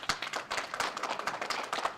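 Audience clapping for an honoree at the 2021 Miss Navajo Nation Pageant, a steady burst of many hands at moderate loudness, fairly close, lasting about two seconds.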